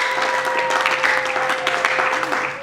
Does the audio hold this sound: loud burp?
no